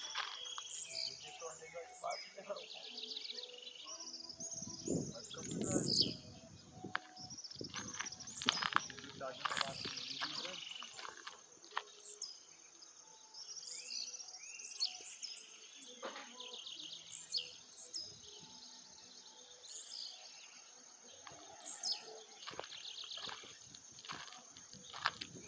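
Small birds chirp and trill in repeated bright bursts amid a steady insect-like buzz, sometimes near and sometimes farther off, with people talking now and then.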